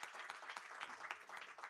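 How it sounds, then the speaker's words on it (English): A crowd applauds steadily, dense overlapping claps filling the whole moment without a break. "a round of applause to all of you"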